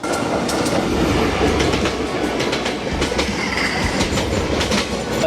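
A train running on rails, a loud continuous rumble with rhythmic clickety-clack of wheels over track joints, heard close throughout with no talk.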